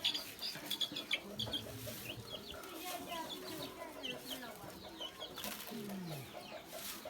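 Chickens clucking at a rural village, a scatter of soft intermittent clucks and chirps in the background, somewhat distant, with a person talking over them.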